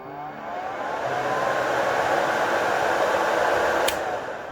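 A nail dust collector used for gel nail drilling runs steadily on its own, a loud, even broadband whoosh like a hair dryer on high, holding constant for several seconds with a brief sharp tick near the end.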